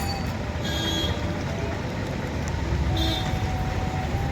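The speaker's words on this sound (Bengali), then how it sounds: "আর এখন আমি ট্রেনেই" Inside a moving train, a steady low rumble of wheels and carriage fills the space, with faint squeals of the car body coming and going and no voices over it.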